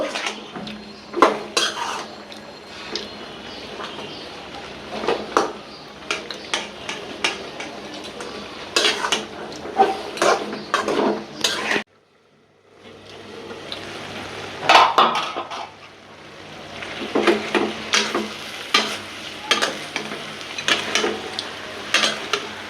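A metal utensil stirs and scrapes rui fish head with data greens in a pan, with repeated close clanks and a soft sizzle underneath, a brief pause midway, then more stirring.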